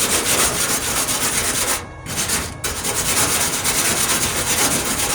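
A wire brush scrubs flux slag off a fresh weld on a 1998 Ford Ranger passenger-side wheel arch repair. The harsh bristle rasping is loud, close and continuous, broken by one brief pause partway through.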